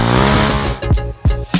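A motorcycle's rear tire slips under half throttle with the clutch released, loud engine revving joined by short bursts of tire squeal and skidding close up, repeating in quick surges.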